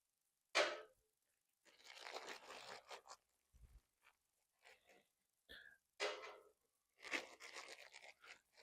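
A packet of winch mounting hardware for a Harbor Freight Badland Apex 12,000 lb winch is torn open in several sharp ripping bursts, with crinkling plastic and small rattles in between, close and alone.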